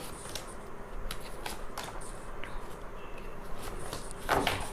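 Tarot cards are shuffled and drawn during a reading, giving soft papery rustles and flicks close by, with a brief louder riffle near the end and a quiet room behind it.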